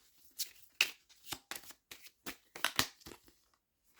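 Tarot cards are shuffled in a run of about nine quick, crisp riffling bursts with short pauses between them, close and fairly soft, with no talk.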